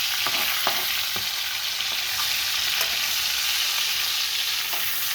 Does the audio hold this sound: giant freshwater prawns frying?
yes